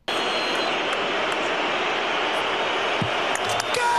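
Inside an airliner on a flight to Montreal, jet engines give a steady, broad roar that fills the cabin evenly, loud and continuous with no voices over it.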